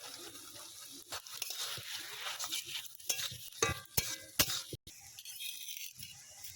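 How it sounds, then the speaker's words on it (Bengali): A spatula stirs a wet curry of amaranth leaves and hog plums in a pot, giving repeated sloshing scrapes and soft liquid churning up close, with brief pauses between strokes. "এবার আমি একটু খুন্তি দিয়ে ঘুটে নেবো ভালো করে"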